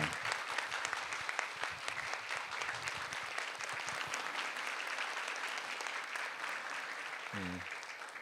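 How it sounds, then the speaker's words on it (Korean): Audience applause at a church faith-training certificate ceremony, steady clapping from a room of people lasting throughout, moderately loud with a few brief voices in the background. "수료증이 전달될 때 큰 박수로 축하해 주시기 바랍니다."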